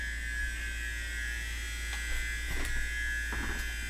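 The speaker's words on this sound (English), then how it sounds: "Sounds like a something shaver. Like fucking buzzing in the hallway." Electric shaver-like buzzing carries from a hallway, a steady faint drone with a few brief louder bursts toward the end, heard alone without talk.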